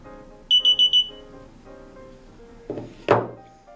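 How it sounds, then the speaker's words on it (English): Four quick high-pitched electronic beeps in a row from a Popp clamp receiver confirming pairing, close and clear, followed a few seconds later by a couple of dull mechanical clunks. "The receiver will beep 4 times, indicating a successful pairing."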